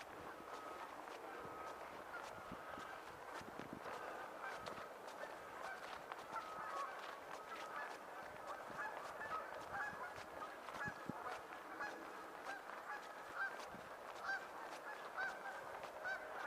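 Many geese honk continuously beside a frozen pond during a December snowstorm, their calls overlapping and steady at moderate distance, with faint footsteps and a little background noise.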